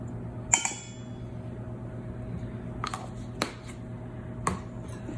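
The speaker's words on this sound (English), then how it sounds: "we're just gonna mix this together" Dry ingredients for a blueberry cobbler with a cornmeal sugar cookie crust being stirred together in a bowl: a few light clinks and taps of utensil against the bowl, spaced out over a low steady background hum, with no talking.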